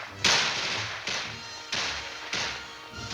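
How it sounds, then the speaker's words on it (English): An M60 machine gun firing four separate sharp, loud cracks spaced roughly evenly apart, each trailing off in a brief echo. "And there is the new M60 machine gun."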